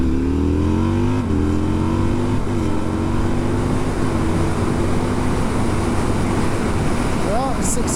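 Husqvarna Nuda 900R motorcycle with a Heal Tech quickshifter accelerating from first up through the gears, loud steady engine drone whose rising harmonics drop at each shift, over heavy wind rush.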